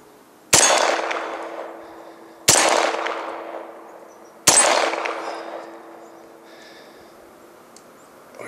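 Three heavy .500 S&W Magnum revolver shots, evenly spaced about two seconds apart, each a sharp loud crack with a ringing steel-target clang that decays slowly afterward.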